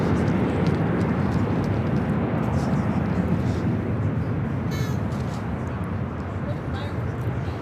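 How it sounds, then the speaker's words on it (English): A Qantas Boeing 787-9 Dreamliner takes off on a night departure to Melbourne, a broad, steady jet roar that holds strongly throughout and heard from a distance. "this is Qantas Flight 94 taking off to Melbourne, Australia on the 787-9 Dreamliner"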